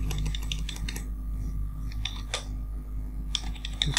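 Computer keyboard keys tapped while editing text, a quick run of light clicks, a short pause, then a few more scattered taps, close and quiet with no voices.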